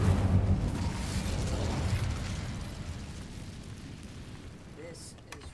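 An Incendio fire spell cast in the Hogwarts Legacy video game bursts out as a loud, rumbling blast that fills the start and slowly fades over several seconds, with a voice talking over it.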